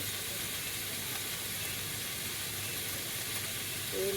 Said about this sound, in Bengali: লবণ দিয়ে দিলাম একটু হলুদের মরিচের ভাজি